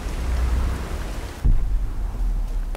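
Steady heavy rain pours in the Tomb Raider video game, a dense, continuous hiss with a low rumble beneath and a brief surge midway, with no voices.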